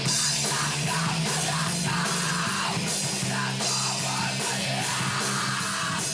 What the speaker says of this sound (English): That's not a band. That's dark, angry screaming.